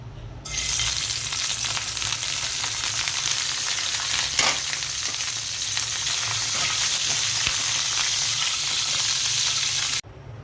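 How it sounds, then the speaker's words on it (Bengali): An egg fries in oil left over from frying tikia, starting with a sudden loud sizzle that holds as a steady crackling hiss for about ten seconds before cutting off, with no voices. "টিকিয়া ভাজা তেলের মধ্যেই আমি ডিমটা ভেজে নেব।"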